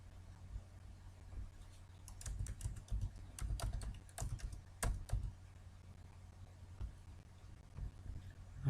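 Soft typing on a computer keyboard while entering data in Excel, scattered clusters of key taps at moderate distance over a low background hum.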